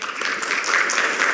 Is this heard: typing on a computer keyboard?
no